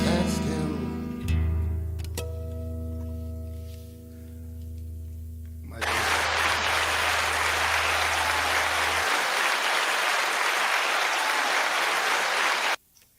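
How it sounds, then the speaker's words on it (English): Audience applause after a song, a dense steady clapping that rises as the final music notes fade and continues for several seconds before stopping abruptly. "Didn't know you were going to get all those applause, did you?"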